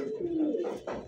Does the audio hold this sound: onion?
no